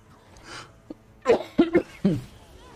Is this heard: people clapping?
no